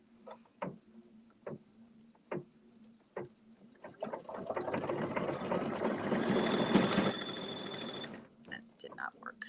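Embroidery machine stitching for about four seconds, a fast continuous mechanical whirr that starts after several isolated clicks and taps, then stops abruptly, with a person talking briefly around it.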